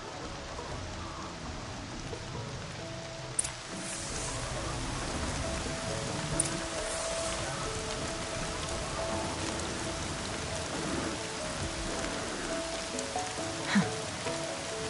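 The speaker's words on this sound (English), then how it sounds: "Rain's not so bad." Steady rain falls in Horizon Zero Dawn, a dense even patter of drops on surfaces that continues throughout with a few slightly louder splashes and no talking.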